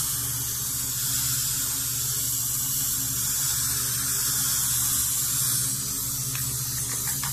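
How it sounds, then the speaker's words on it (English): Valspar paint-and-primer spray paint sprayed onto a game controller, a continuous close hiss with low background hum lasting several seconds, no talking. "what you're gonna wanna do is go ahead and just spray a coat on there"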